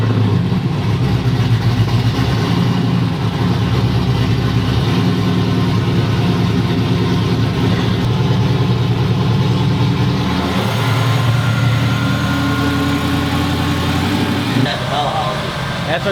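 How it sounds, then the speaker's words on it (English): Drift car engine heard from inside the cabin, a loud constant droning roar with rising and falling revs and no pauses. "That's what it sounds like inside the car."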